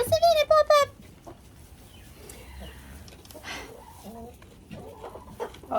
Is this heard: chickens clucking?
yes